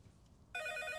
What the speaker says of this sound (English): it's the phone. The phone's making sounds.